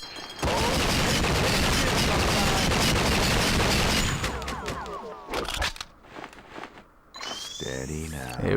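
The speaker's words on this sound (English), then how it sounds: "Notice how powerful my guns are" Player's guns firing in True Crime: Streets of LA: dense, loud rapid gunfire for about four seconds, then scattered shots and bursts with mechanical clicks, while a voice talks over the top.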